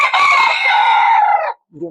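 A rooster at a cockfighting ring crows loudly and close by in one long, drawn-out call, then a brief low cluck follows after a short pause.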